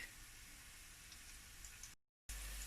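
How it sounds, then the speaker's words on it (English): Onions frying in a pan while cooking jollof rice, a steady close sizzle that holds evenly, drops out briefly, then returns at the same level. "So I'm still frying the onion."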